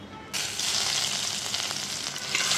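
Chopped garlic hits hot mustard oil with a sudden loud sizzle that stays steady and close, with faint stirring beneath and no talking, during a Bengali masoor dal preparation.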